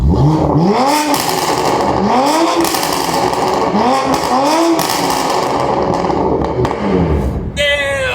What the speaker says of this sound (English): Any AWE exhaust has a very, I guess, unique tone to them